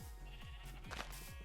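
Several sheep bleat close together and loudly in a Minecraft world from the Tritoncraft modpack, their wavering calls overlapping one after another.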